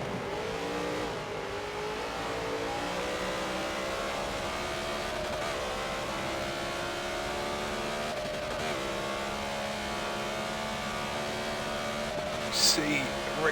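Several BMW Z4 GTE race cars in a racing video game on the Nurburg GP circuit, a steady layered engine drone with shifting pitch as cars rev and accelerate together, continuous throughout, with commentary voices talking over it.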